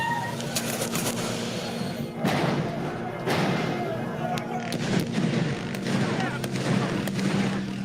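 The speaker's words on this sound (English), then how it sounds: "Gunfire echoing through Port-au-Prince after the president was assassinated." Repeated sharp bangs of gunfire ring out and echo between buildings in Port-au-Prince, Haiti, a few shots in irregular succession over a steady urban rumble, with birds faintly audible.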